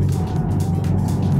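A Volkswagen Golf 7 R driving on the road, its tires rumbling with a steady, loud low engine and road drone from inside the car, no talk.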